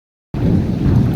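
Heavy rain pours down with floodwater rising near a Hanuman temple at the Gorakhnath shrine, a dense, steady roar that starts abruptly after a brief silence and stays loud throughout.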